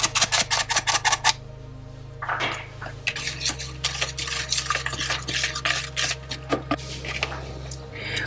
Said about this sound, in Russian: всыпаю разрыхлитель и просеиваю это все в яично-сгущеночную массу